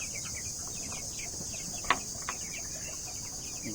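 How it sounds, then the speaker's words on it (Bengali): Coloured chicken chicks on a small farm give faint, scattered peeps over a steady insect drone, with one brief louder call partway through. "আর এই যে আমার খামারে এই যে কালার বাট মুরগি বাচ্চাগুলো,"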